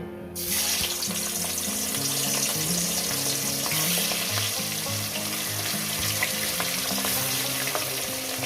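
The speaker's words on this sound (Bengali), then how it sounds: "তেলটা গরম হয়ে গেছে আমি এক এক করে মাছগুলো দিয়ে দেব" Katla fish pieces fry in hot oil in a pan with a loud, dense, continuous sizzle and bubbling crackle that holds steady throughout, heard close and without any talk.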